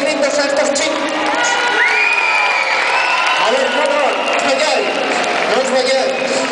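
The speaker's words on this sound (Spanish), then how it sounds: "Aplausos y gritos a estos chicos" Loud crowd cheering, whooping and clapping for young dancers at a charity gala dance exhibition, a sustained wall of shouts and applause with children's high voices rising through it.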